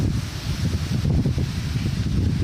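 Strong wind blows steadily across an outdoor spot where fish are being caught. It makes a continuous, loud, low buffeting rumble, like wind hitting the microphone, with no voices in it.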